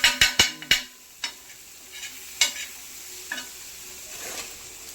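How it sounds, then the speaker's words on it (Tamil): Onion, green chilli and salt frying on a flat dosa pan before prawns are added. A few sharp scraping stirs open, then a soft sizzle continues under occasional clanks of the spatula. "தோசைக்கல்லில் வெங்காயத்தை போட்டு பச்சை மிளகாய் போட்டு வெங்காயம் பச்சை மிளகாய் உப்பு போட்டு"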